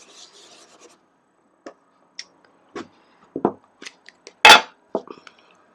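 An embossing buddy rubbed over dark navy cardstock in a paper-crafting setup, heard as scattered short rasping strokes and taps, close and fairly quiet, with a louder scrape near the end.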